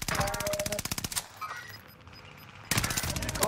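Rapid automatic gunfire in a first-person shooter video game from a UGM rifle build with Arma attachments. Two long, evenly spaced bursts sound close and loud, separated by a quieter pause with distant game noise.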